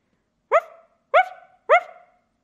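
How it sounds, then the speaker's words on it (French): A dog barks three times down a chimney in a Christmas story, deep, evenly spaced woofs with short decay, close and clear with no talk over them. "De sa grosse voix, le chien aboie dans la cheminée."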